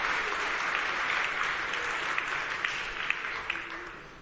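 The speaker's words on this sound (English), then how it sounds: "Can we give him a round of applause?" Sustained applause from a tech conference audience at a live developer event, a steady dense wash of many hands clapping throughout, with a few sharper claps standing out near the end.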